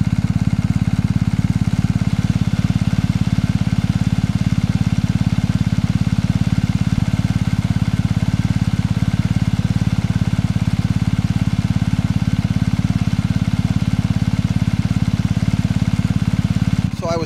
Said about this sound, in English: to see if you can hear a good sound of the engine.